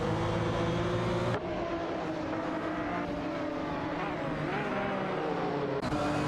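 Race cars in a video game, a Porsche 911 GT1 and a McLaren F1 LM, drone steadily with a loud, continuous engine roar, one car sweeping past as a second engine tone rises underneath.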